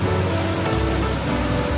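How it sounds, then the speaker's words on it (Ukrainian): Water pours and splashes steadily as pasta is drained, a continuous rushing, spattering flow close by. "Зливаємо з макарону воду"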